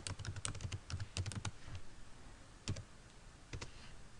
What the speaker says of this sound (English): Let's say I want to type in good evening.